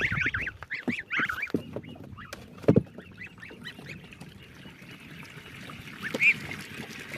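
Young geese make repeated high, squeaky peeping calls in bursts, close by, with some splashing and soft background noise between them.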